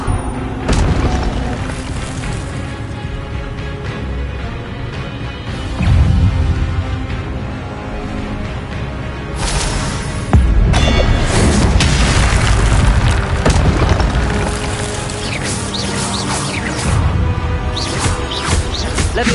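Booming fire-spell blasts go off repeatedly in Hogwarts Legacy gameplay, loud explosive bursts layered over game music and effects, with several heavy surges through the stretch.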